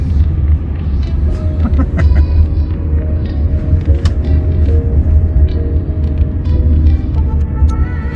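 Inside a Waymo driverless electric Jaguar riding on Los Angeles streets, a steady low road rumble and hum fills the cabin, with faint rattles and ticks over it.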